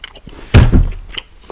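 Someone bites into semi-sweet chocolate with one sharp crisp snap, then chews softly and moistly at very close range, with a few faint smacking clicks trailing after.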